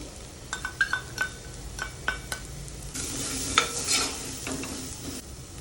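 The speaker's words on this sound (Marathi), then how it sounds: "आलं लसूण खमंग भाजून झाल्यानंतर आपण ह्यामध्ये हा मालवणी मसाला पण परतवून घेऊ" Malvani masala stirred and fried with ginger and garlic in a pan for a chicken dish, giving a steady close sizzle with a run of scraping spoon strokes and light clinks, growing louder and busier toward the end.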